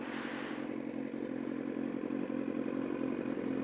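A sport bike motorcycle engine runs hot in traffic with a steady, droning hum, close and constant, with no talking.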